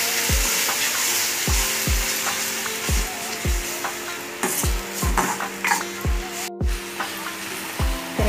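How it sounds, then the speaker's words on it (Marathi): Ginger garlic paste sautéing in a pan for dhaba-style masala chicken, a steady close sizzle broken by repeated sharp knocks of a spoon against the pan at a regular stirring rhythm, no talking. "याला परतून घ्यायचं आहे चांगलं आपल्याला"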